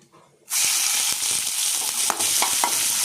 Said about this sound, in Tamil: வெங்காயத்தை சேர்த்து நல்லா வதக்குங்க